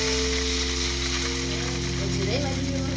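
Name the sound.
salmon skin popping while frying in olive oil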